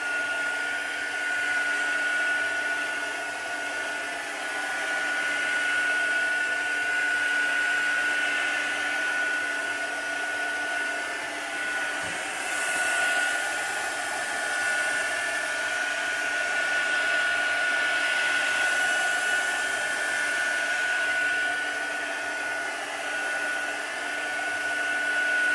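A hair dryer blows steadily on a paint brush, a constant loud whirring hiss with a thin steady whine running the whole time and no pauses.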